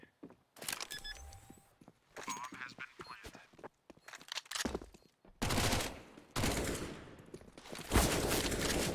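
AK-47 rifle fire in a Counter-Strike match: loud bursts of automatic gunfire in rapid clusters, separated by short gaps with quieter game sounds and faint tonal effects.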